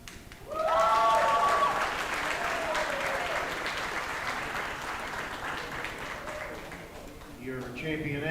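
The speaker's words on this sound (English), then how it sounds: "big round of applause for all these exhibitors" Ringside crowd at a junior livestock expo breaks into steady, full applause for the show exhibitors. A voice speaks over the clapping at the start, and talk returns as it continues.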